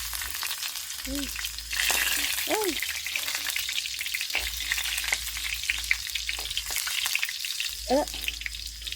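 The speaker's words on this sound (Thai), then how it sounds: "นี่ที่เราสิเอากระเทียมลงไปเลยนะทุกคน" Garlic sizzling and crackling in hot oil in a rural Lao kitchen, with steady frying hiss, occasional stirring scrapes, and a few high bird chirps nearby.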